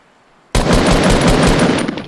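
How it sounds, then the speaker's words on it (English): Video game gunfire erupts suddenly after a moment of near silence, a loud, close burst of rapid cracking shots in quick succession that holds for over a second before thinning out. "People are shooting snipers"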